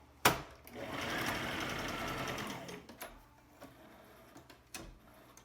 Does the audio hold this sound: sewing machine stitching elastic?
yes